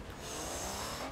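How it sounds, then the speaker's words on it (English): A car in the Forza Motorsport 7 racing game slides sideways in a drift, a loud, dense burst of engine roar and tire noise lasting about a second. "Drifting sideways like a boss."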